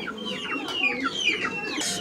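Pigeons kept for sale at a bird market, a pair of black birds among them: close, busy cooing and clucking calls overlapping throughout, with chirpy rising notes and a brief rustle near the end.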